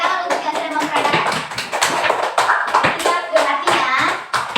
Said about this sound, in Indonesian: Oke, tepuk tangan untuk yang sudah mempraktekkan.